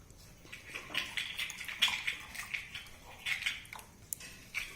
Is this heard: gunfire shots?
no